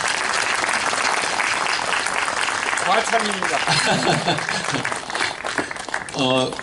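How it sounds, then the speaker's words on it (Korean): Audience at a concert applauds warmly for an introduced guest, sustained dense clapping while someone speaks briefly over it near the end. "여러분 큰 박수로"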